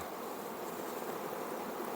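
Dense, steady buzzing of a huge mass of bees in a hive, a continuous droning hum with no pauses.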